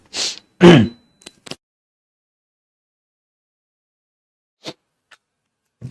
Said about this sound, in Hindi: एसी बंद करते हैं भाई, छींक आ रही है।